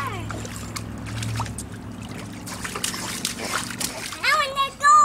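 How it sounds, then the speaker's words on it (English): Young children play in shallow water, splashing and sloshing as they wade, with kids' voices talking throughout and a few louder splashes near the end. "gotta walk in the water."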